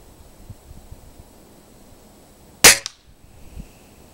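A single sharp shot from a Beeman dual caliber air rifle cracks out loud and close, with a short decaying tail against quiet outdoor background.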